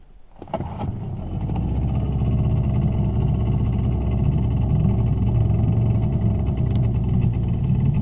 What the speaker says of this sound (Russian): мотор завелся